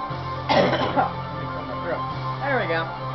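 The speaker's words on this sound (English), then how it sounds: "That's my cancer cough, for anyone wondering." A few harsh coughs burst out close by, followed by a throaty clearing sound, with a steady low hum underneath.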